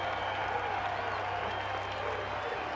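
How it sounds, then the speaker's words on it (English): A college baseball crowd at Wake Forest versus East Carolina buzzes and claps steadily during a conference on the mound, a distant continuous roar with a faint low hum beneath. "this crowd revs it up a little higher"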